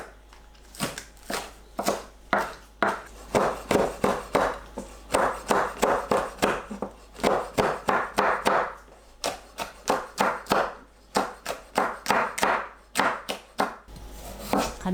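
Knife chopping onion, green onion and green and red chili peppers on a cutting board, steady rhythmic close taps in quick runs with short pauses between batches.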